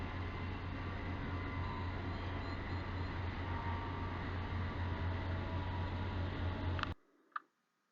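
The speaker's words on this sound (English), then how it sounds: "And this is the passenger train." Passenger train running beside the Panama Canal, a steady loud rumble and rolling rail noise that fills about seven seconds, then cuts off abruptly to near silence with a brief faint tick.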